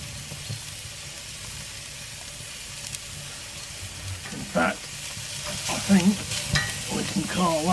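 Food frying and sizzling over an open fire inside a roundhouse, a steady crackling hiss throughout with louder spitting bursts near the end and occasional stirring sounds.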